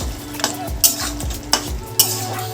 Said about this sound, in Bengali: এবার আলুটাও মশলার সাথে একটু কিছুক্ষণ ধরে কষিয়ে নেব।